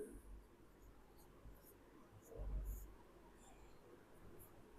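Writing a definition on a board during a Hindi-language class 10 physics lesson: faint, scratchy strokes at a low level, with one slightly firmer stroke in the middle and no speech.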